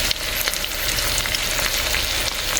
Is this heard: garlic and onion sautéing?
yes